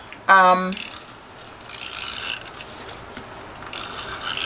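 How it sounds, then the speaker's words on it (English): A tape runner laying adhesive onto a handmade birthday card, a quick mechanical ratcheting buzz up close, followed by softer rubbing and pressing sounds. "glue runner here, or tape runner"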